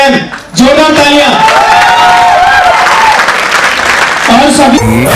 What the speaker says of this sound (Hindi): आपकी जोरदार तालियों के साथ में, म्यूजिक के साथ में स्टेज पे कॉल करना चाहूंगा